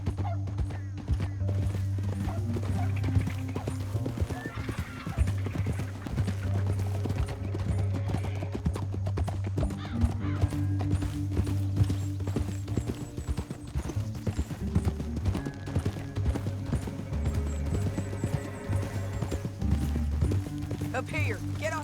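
Horse hooves gallop in a steady rapid drumming throughout in Red Dead Redemption 2, under a low musical score and occasional voices, with a faint whinny.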